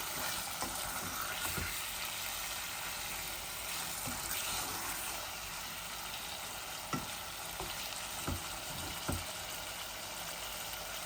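Chicken sizzling in a pan with turmeric, ginger, garlic and salt, a steady bright frying hiss with occasional scraping stirs, close and continuous.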